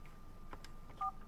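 A telephone left switched on gives off short electronic dialing tones, a couple of faint beeps followed by one brief steady two-note tone near the end, quiet and isolated.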